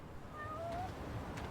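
A cat meows in the video game Lost Judgment, a short faint mew with a gently falling pitch over a soft, steady game ambience.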